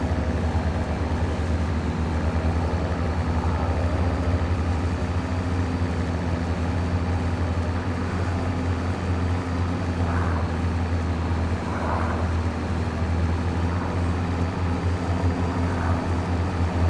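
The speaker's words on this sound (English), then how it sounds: "I always love listening to that aeroplane going over" A propeller aeroplane passes over a farm field with a constant low drone that swells slightly, heard at a distance over the nearby steady rumble of a working engine, with no talking.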